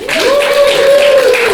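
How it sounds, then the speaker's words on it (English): An audience at an improv theatre show in Glasgow gives a short round of applause, with a sustained whoop riding over the clapping, close and fairly loud. "Give a round of applause to Mark."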